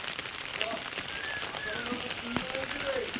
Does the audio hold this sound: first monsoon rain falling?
yes